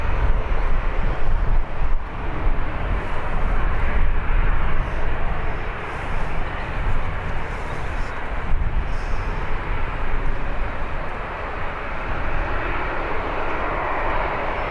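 Airliner, an A380, spooling its engines up for takeoff at Birmingham Airport, a broad, distant roar that swells and holds steady with some wind noise across the microphone.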